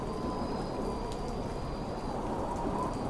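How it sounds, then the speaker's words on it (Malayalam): Heavy rain falls steadily, a dense and even hiss that stays unbroken and fairly close, with a faint tone running through it and no talk. "ഈ മഴ നിൽക്കുന്ന ലക്ഷണം കാണുന്നില്ലല്ലോ"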